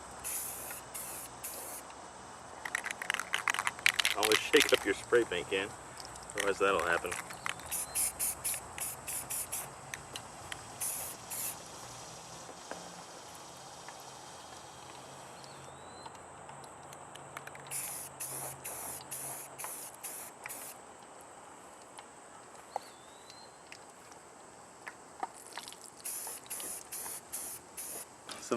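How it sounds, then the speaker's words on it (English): Repeated bursts of aerosol spray paint coating a rifle laid flat, close hissing blasts separated by short pauses, with a brief spoken remark partway through. "Lay the rifle down and spray it down"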